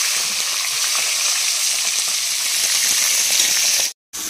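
Marinated katla fish heads frying in oil in a wok, two at a time, give a loud, steady, close sizzle that cuts off abruptly near the end.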